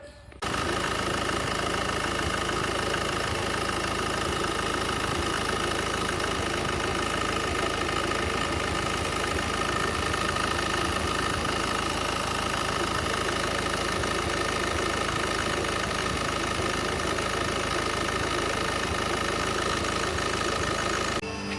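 A car engine runs steadily on a diagnostics test drive, a continuous mid-pitched drone with faint knocking texture that stays constant and close for the whole stretch.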